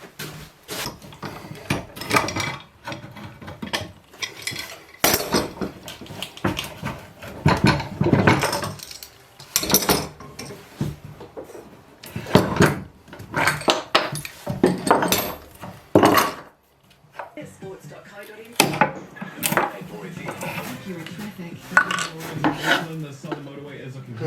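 Metal woodworking clamps handled and tightened during a wooden sign glue-up: repeated clanking, rattling and scraping in dense bursts with short pauses, close and fairly loud, no speech.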